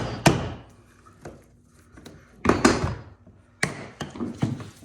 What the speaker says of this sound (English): Maybe I'll hit it with a hammer.